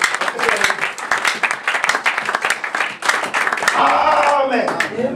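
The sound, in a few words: congregation applause in church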